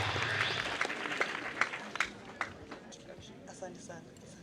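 A crowd claps in applause for a head teacher at a high school event, a dense patter of hands with a few sharper claps standing out, fading toward the end while voices murmur underneath.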